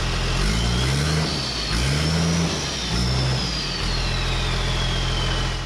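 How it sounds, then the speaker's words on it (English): A big swapped-in turbo diesel engine in a car revs up close in three quick surges, each settling back, over a constant low rumble and a thin turbo whine. "I put a huge turbo diesel in place of a small V6 gasser."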